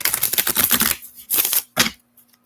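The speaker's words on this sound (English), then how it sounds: "One more shuffle." A deck of tarot cards is shuffled by hand, a fast crisp riffle of flicking card edges followed by two shorter bursts as the deck is squared, close and fairly loud with no talk.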